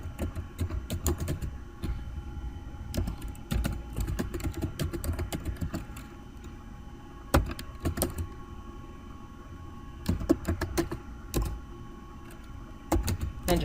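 Keys on a computer keyboard are typed close by as a passphrase is entered, coming in quick irregular bursts of soft clicks separated by short pauses.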